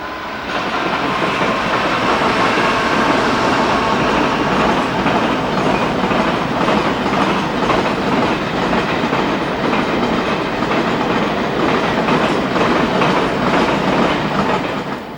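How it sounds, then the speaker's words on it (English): A freight train rolls past on a British main line near Norwood Junction, a loud continuous rumble of wagons with steady clickety-clack from the wheels, close by and alone without talk. "To avoid congestion on the main line, some freight services are routed via Norwood Junction."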